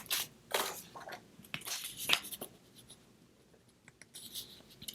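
Paper being cut by hand for a handmade fall card, a few short crisp snips and slicing scrapes spread across the span, close and fairly quiet with gaps between strokes.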